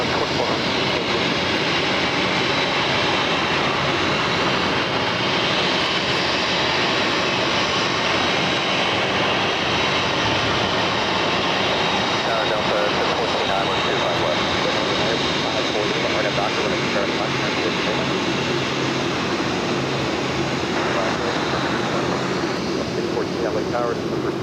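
Jet airliner engines roar steadily and loudly at a runway at LAX, a continuous broad rumble lasting the whole stretch, with voices talking underneath.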